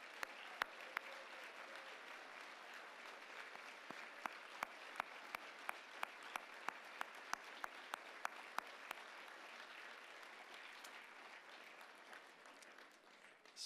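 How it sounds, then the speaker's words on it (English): Gala audience applauding steadily as the trustees stand to be recognized, a dense, even wash of clapping across a large room with a few sharp individual claps standing out near the front, no talk over it. "Please stand, a round of applause."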